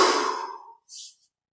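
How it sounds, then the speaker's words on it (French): A single long exhalation during meditation practice, a soft breathy rush that fades out over under a second, followed by a brief faint hiss of breath, close and quiet. "On expire à nouveau, va-et-vient."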